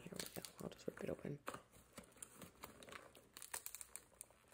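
Packaging being ripped open to unbox a delivery of small Haworthia plants, with crinkling and tearing bursts of paper or plastic close by, broken up by scattered rustles, under a quiet voice.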